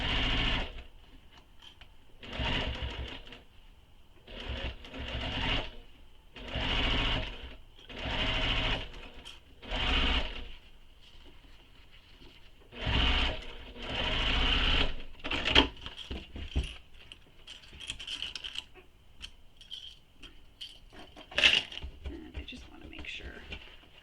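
A sewing machine stitches a backpack in repeated short motorized bursts of a second or so, stopping and starting near and loud, followed by quieter handling and clicks as the fabric and zipper pull are repositioned.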